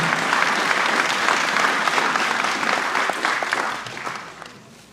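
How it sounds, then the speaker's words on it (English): An audience at a lecture on African masquerade gives a professor a round of applause, a thick wash of many clapping hands that holds steady and then tapers off toward the end. "Please let's give our professor a round of applause for his fantastic presentation"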